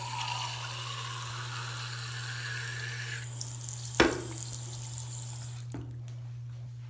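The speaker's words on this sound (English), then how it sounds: "let's add more water." Water runs steadily from a tap into a tube in a water physics demonstration over a constant electrical hum, with a sharp knock midway before the flow fades out.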